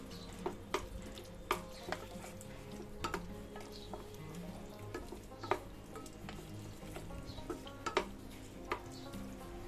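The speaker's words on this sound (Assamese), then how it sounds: "এয়া মই গোটেইখিনি লৰাই দিছোঁ" Spices and homemade sour curd being stirred in a cooking pot, with repeated scraping and tapping of the spoon against the pot over a soft sizzle, fairly quiet and close.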